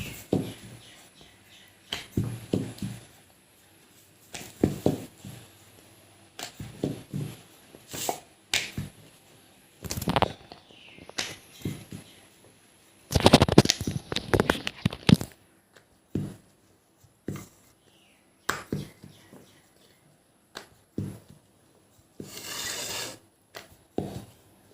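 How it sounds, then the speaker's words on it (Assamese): Nimki dough is rolled out with a rolling pin in a home kitchen, giving repeated scraping, rubbing passes in irregular bursts with short pauses between them, close and fairly loud. "এনেধৰণে আমি বেলি ল'ম আটাইকেইখন।"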